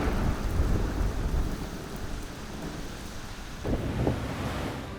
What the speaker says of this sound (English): Dark clouds roll in, winds pick up, and it starts pouring like cats and dogs.